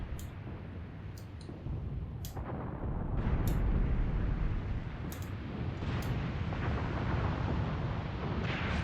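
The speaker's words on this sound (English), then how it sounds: "I'm hearing some artillery somewhere." Distant artillery explosions in the video game Graviteam Tactics, a continuous low rumbling roar with several dull booms rising and falling across the battlefield, no voices.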